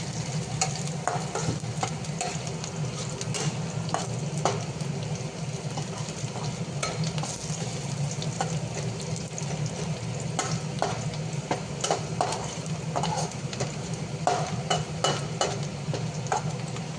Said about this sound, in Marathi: आता आपण लसूण हे टाकत आहे, आपण कढीपत्ता कापलेला आहे ते टाकत आहे।